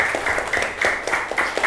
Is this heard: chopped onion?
no